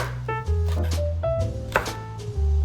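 A knife finely slices Cheongyang chili peppers on a board, a short run of quick, close taps of varied strength heard over a low background hum.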